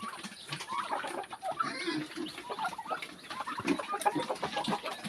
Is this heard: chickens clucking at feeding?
yes